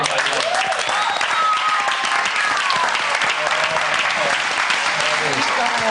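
A studio audience on Big Brother Australia 2014 gives Lawson loud, continuous applause, mixed with cheers and whooping voices that carry throughout.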